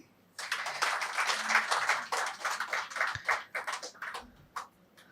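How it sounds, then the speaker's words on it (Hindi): A seminar audience applauds steadily for several seconds, dense clapping that swells and then thins out toward the end. "बजाएंगे अपने लिए ताली?"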